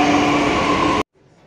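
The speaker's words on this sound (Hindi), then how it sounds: "आप देख सकते हो मेट्रो अभी आने वाली है" A Delhi metro train sounds loud and close for about a second, a steady rolling rumble with a sustained tonal hum, then cuts off abruptly to near silence.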